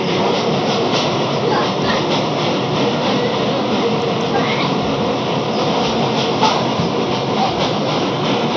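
A train arrives at a railway platform: a loud, continuous rumble of wheels and carriages rolling close by, with faint clatter and occasional squeals throughout, heard alone.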